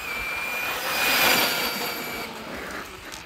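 Brushless-converted 1/10 Traxxas Summit RC truck on 4S power sweeping past at speed, a high electric motor whine swelling to a peak mid-pass then fading as it moves away.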